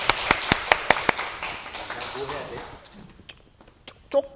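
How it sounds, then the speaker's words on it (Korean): A church youth group claps for its departing leader: a handful of brisk, slightly uneven claps at the start that fade quickly, then quiet room noise and a few soft knocks or movements. "박수"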